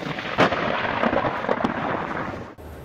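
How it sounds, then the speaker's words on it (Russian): Small artificial lightning bolts discharging in a science museum in Dnipro, loud crackling and snapping bursts in quick irregular succession, close and harsh, cutting off abruptly near the end. "А тепер крихітні штучні блискавки по нашому велінню."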